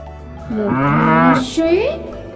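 A bull lows loudly and close by: one long, wavering moo that rises and falls, followed by a shorter second call.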